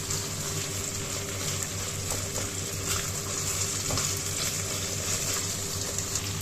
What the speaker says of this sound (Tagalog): I-pan fry natin siya.